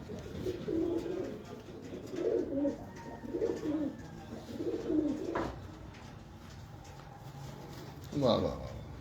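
Pigeons, including a Prince Magar pigeon kept by a Bahawalpur fancier, coo in low repeated bursts at moderate distance, mixed with background voices and a brief sharper sound near the end.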